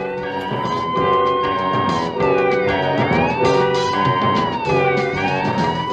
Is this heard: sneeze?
no